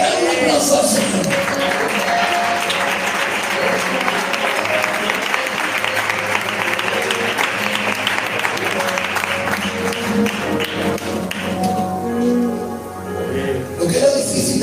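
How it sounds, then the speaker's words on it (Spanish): A church congregation claps together in praise of the Lord, a loud, sustained wash of applause that runs steadily throughout, with voices mixed in. "Dale un aplauso al Señor."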